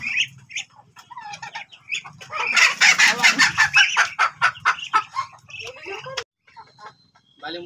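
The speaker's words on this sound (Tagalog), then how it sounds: "Ito pong manok na yan." Native chickens clucking and a rooster crowing in a rural yard, a dense burst of loud, close clucks swelling mid-way then breaking into sparser calls; a person speaks over the birds.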